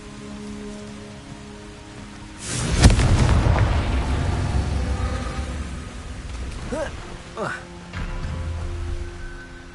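A Confringo blasting spell in Hogwarts Legacy bursts into a loud explosion that rumbles and decays over a few seconds, with a spoken voice and a steady rain-like ambience throughout.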